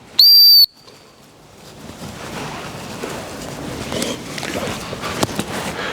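A single sharp, shrill dog-training stop whistle blast rings out briefly during springer spaniel retrieve work, followed by quiet outdoor rustling and movement.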